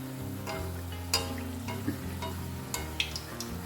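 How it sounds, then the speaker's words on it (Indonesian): Quiet frying sizzle of peanut rempeyek in an old, worn wok, broken by several sharp scraping clinks of a utensil against the metal, spaced irregularly with no talking. "Ini aku goreng pakai wajan buluk teman-teman."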